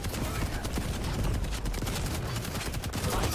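Rapid gunfire and weapon blasts crackle through a fast Quake Champions multiplayer match, dense bursts of shots overlapping continuously at close range.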